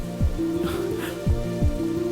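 Steady rain falls in a broadband hiss behind a dramatic scene, with a low musical score and swelling tones running underneath it and no clear voices.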